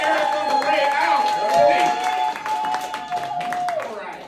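Comedy club crowd applauding and cheering for the evening's winner at a Broadway comedy club in NYC, dense steady clapping with whoops and a sustained whistle-like tone running through, voices mixed in.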